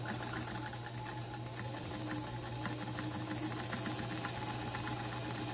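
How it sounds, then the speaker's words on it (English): A White 764 sewing machine stitches fabric with a steady, rapid mechanical whir and rhythmic needle ticking, close and continuous, with a low motor hum underneath and no talking. "holding your threads in the back for the first stitch or two"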